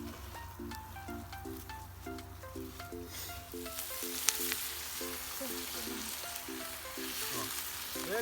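Potatoes frying on a small outdoor grill, a steady crackling sizzle that runs continuously at moderate volume, with faint rhythmic tones in the background and no talk.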